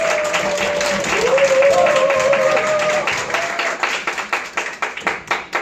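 An audience claps to welcome a lecturer to the stage at a talk on nutrition products: dense, loud applause that holds steady, then thins into separate fading claps toward the end, with a faint sustained tone underneath.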